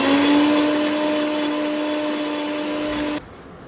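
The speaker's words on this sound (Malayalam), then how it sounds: "ഇനി നമ്മളൊരു മിക്സിയിലോട്ട് വെളുത്തുള്ളി, ഇഞ്ചി, പച്ചമുളക്, കുറച്ച് മല്ലിച്ചപ്പും കൂടി ഇട്ട് നന്നായിട്ടൊന്ന് പേസ്റ്റാക്കി എടുക്കാം നമുക്ക്" An electric mixer grinder whirs steadily, loud and close, while grinding garlic, ginger, green chillies and coriander leaves into a paste, its motor holding a constant high drone before cutting off abruptly near the end.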